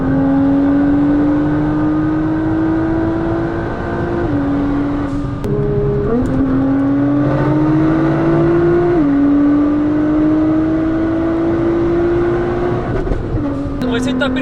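A Nissan GT-R with three occupants aboard pulls hard at very high speed, its engine note climbing steadily through long gear pulls with brief dips at each shift, loud and continuous with wind roar beneath.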